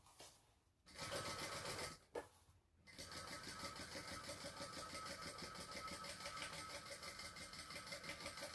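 A sewing machine stitches a bag seam, starting with two short bursts separated by gaps and then running in a steady, close mechanical hum with a fine rapid needle rhythm.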